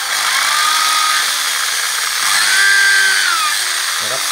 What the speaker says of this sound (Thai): ก่อนที่จะยึดก็ทําการเจาะไม้ตัวนี้ก่อนนะครับไม้เกของเรานะครับเจาะลงไป